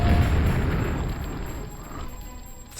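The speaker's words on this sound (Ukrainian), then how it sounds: "а от добродію треба дати особливу гранату" Grenade blast in the video game Quake: one short, dull boom that decays into a rumbling burst over a few seconds.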